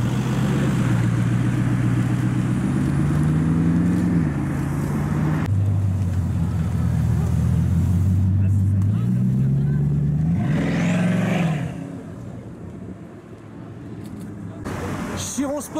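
A red Bugatti Chiron Sport supercar approaches on the road, its engine note rising through the gears, then passes close and loud and fades away. Wind buffets the microphone throughout.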